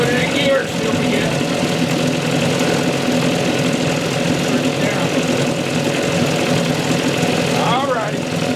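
A 1963 Evinrude 5.5 HP outboard motor idles steadily with a rough, burbling putter, close and continuous, while someone talks over it.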